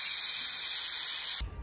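A pressure cooker cooking bottle gourd soup lets out a loud, steady, high steam whistle that cuts off abruptly near the end, followed by a low rumble.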